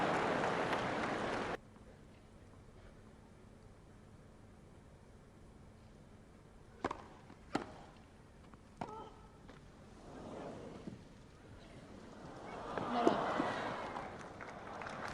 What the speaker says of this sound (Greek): Αδιάφορο ήταν το χειροκρότημα για το κερδισμένο game από την Williams.